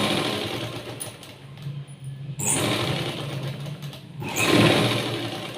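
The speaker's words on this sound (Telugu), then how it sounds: "కిందకి ఫోల్డ్ చేసుకొని ఇట్లా బ్లౌజ్ పీస్ మీద పెట్టి పైపింగ్ పక్క నుంచే స్టిచ్ చేసుకుంటూ రావాలి" A sewing machine stitching a folded blouse piece along the piping, humming steadily in several runs with brief pauses between them.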